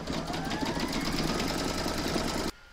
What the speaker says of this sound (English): Pop it into your machine and stitch round number 15.